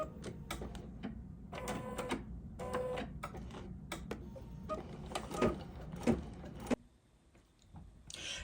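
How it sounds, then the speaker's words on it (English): An embroidery machine stitches out the fifth colour of a golden sampler block, a busy mechanical whir in uneven bursts with brief pauses, close by, before the motor cuts out near the end. "now it's time to stitch out color number 5"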